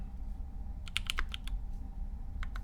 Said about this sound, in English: So this is a mono keyboard Kei R2.